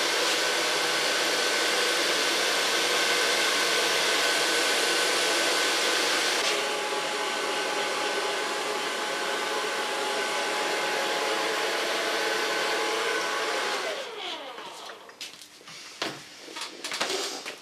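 A hair dryer blows loudly and steadily during a short clipper haircut for platinum-colored hair, a continuous close whoosh that cuts off near the end, leaving quieter handling sounds.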